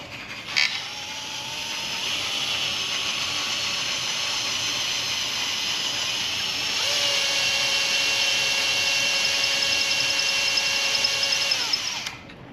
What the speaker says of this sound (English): I'm going to go get a little bit bigger so I can drill the head off of there